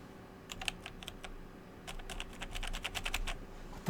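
Quiet typing on a computer keyboard in a room, with short bursts of quick key clicks separated by brief pauses and a denser run of taps in the second half, heard close and soft with no talking.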